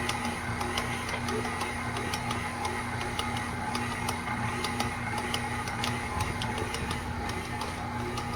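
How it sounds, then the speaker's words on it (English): A stand mixer kneads pretzel dough with a constant motor whir and a low hum, and light repeated ticking knocks run steadily through it. "It's kind of hard to catch without getting the mixer in the way."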